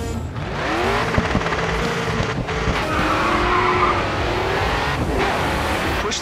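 A car in the GRID 2 racing video game on the Cabrillo Highway, its tires squealing and skidding as the engine howls, loud and close, with the squeal sweeping up and down over several seconds.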